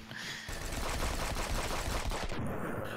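Rapid automatic fire from an AK rifle in a shooter game rattles in a dense, continuous burst of closely spaced shots for nearly three seconds, loud and close, cutting off sharply near the end.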